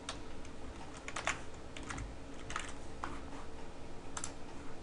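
Typing on a computer keyboard, a run of quick, crisp key clicks in uneven bursts, close and fairly quiet, with no talking.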